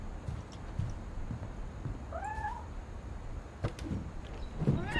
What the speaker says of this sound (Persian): یه گربه